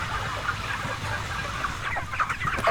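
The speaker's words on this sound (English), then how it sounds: "In this shed, tens of thousands of chickens are raised for food every 2 months." Dense flock of chickens clucking continuously inside a crowded factory farm shed where tens of thousands of birds are raised for meat, a steady overlapping din with individual clucks rising over it.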